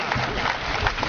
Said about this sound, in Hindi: दोस्तों तालियों से इस्तकबाल करें